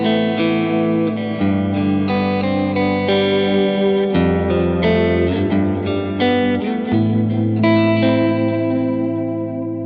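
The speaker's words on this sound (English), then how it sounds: "So that's the 3 tape head, dunk, dunk, dunk, dunk, dunk, and I've set it up so it's like this really old gnarly tape kind of a thing." Electric guitar through a BOSS DD-500 delay pedal set to a three-tape-head tape delay with an old, gnarly tape character and modulation, sustained chords washing into dense, repeating echoes that build a continuous reverb-like swell.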